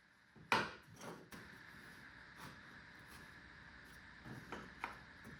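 Wooden Shaker-style door frame parts with tenons are pushed together in a dry fit. One sharp knock opens a series of lighter wooden taps and bumps, set over a low background hiss.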